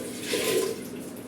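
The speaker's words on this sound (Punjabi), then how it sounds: "ਇਹਦੇ ਚ ਪਾ ਦਾਂਗੇ ਪਾਣੀ" Water pours into a cooking pot of lentils in a short, steady splashing stream that swells briefly and then eases, close by and with no talk over it.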